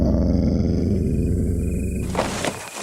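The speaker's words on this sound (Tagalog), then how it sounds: "may marinig silang angil ng isang hayop" A low, continuous animal growl like a dog's rumbles close and steady, then trails off into rustling near the end.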